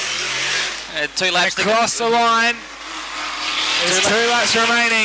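Supermodified race cars power out of turn four on an oval track late in the feature final, a sustained, loud engine roar rising and falling under excited commentary from an announcer.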